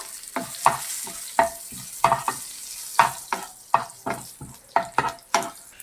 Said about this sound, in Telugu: ఒక నాలుగైదు పాయలు ఎల్లుల్లిపాయలు దంచుకోవాలి ఫ్రై చేసుకోవాలి